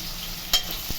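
Onion, tomato and coconut fry in oil in a village kitchen pan with a soft, steady sizzle and one or two brief stirring scrapes, quiet and close.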